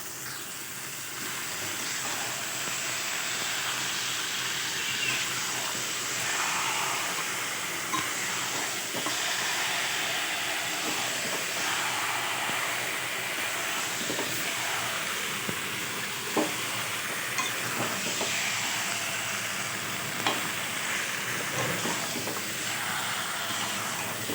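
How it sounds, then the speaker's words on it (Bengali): Mutton tossed into masala frying in a pan gives a continuous hissing sizzle, steady and fairly close. Faint scattered clinks of a spoon or ladle come through for about twenty seconds. "এবার মশলাটা কষাতে কষাতে আমি দিয়ে দেবো এর মধ্যে মাটনটা"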